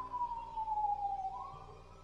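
Emergency vehicle siren wailing outside, a single sweeping tone that glides down and then rises again, heard at a distance and fairly faint, with no voices over it.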